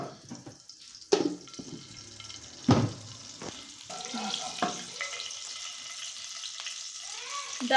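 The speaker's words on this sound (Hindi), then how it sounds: "डालते हैं घी और करते हैं प्याजों को फ्राई अपने पहले" Onions fry in ghee for a moongre aloo sabzi, a soft hiss and sizzle rising after a couple of sharp clanks, with light stirring and a brief watery trickle in between.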